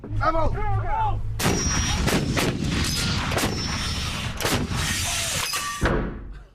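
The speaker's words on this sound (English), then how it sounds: "Even inside the reinforced bunker, we could feel the force of the explosions." A short burst of voice, then a rapid series of loud, heavy booming artillery shell blasts, heard from inside a reinforced bunker in 1951 Korea, rumbling one after another before cutting off.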